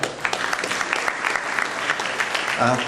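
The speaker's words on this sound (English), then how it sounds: "Let's give a nice round of applause to Dr. Bassem Zaidan." Audience at a Jordanian flag-raising event at Yonkers City Hall giving a round of applause, steady dense clapping from a crowd for about three seconds, fairly loud and close.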